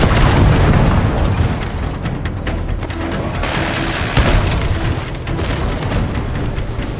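Heavy booming explosions and bursts of missile fire thunder through a Call of Duty Black Ops 6 cutscene, a dense, loud barrage of rumbling blasts with sharp peaks around two seconds and again near four.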